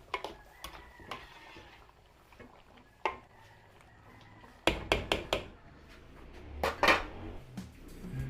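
Utensil scraping and knocking against a cooking pan as bell peppers are stirred into a Filipino pork apritada, with scattered clinks and a few sharper taps, moderately close.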